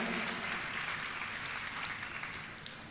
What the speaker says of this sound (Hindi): एक बार उनके लिए तालियां बजाइए।